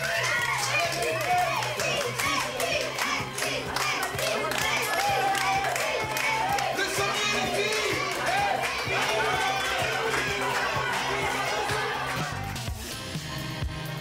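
A crowd cheering on competing teams of boys and girls at a lively outdoor game, dense overlapping shouts, voices and scattered clapping filling the whole stretch before thinning near the end, with people talking throughout.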